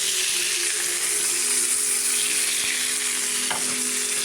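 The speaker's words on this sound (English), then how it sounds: "That butter is basting it." Steak searing and basting in butter in a pan gives a loud, continuous close-up sizzle and crackle, with a faint tap of a utensil partway through and no talk.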